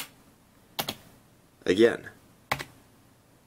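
Key presses on a Corsair K55 RGB gaming keyboard, three distinct clicky strokes spaced apart, close and crisp, with a brief spoken word between them.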